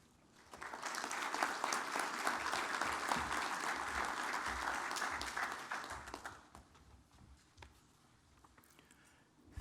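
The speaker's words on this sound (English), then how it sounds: "Shall we give him another round of applause, please?" Sustained audience applause at an aviation stakeholders convention opening ceremony in Kenya, steady and moderately distant for about six seconds before tapering off into quieter room sounds and scattered claps.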